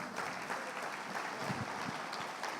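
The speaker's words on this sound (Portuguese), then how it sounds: "Quem pode aplaudir ao Senhor?" A church congregation at a worship service applauds, a soft, steady wash of clapping heard at a distance and fairly faint throughout, with a few low thumps mixed in.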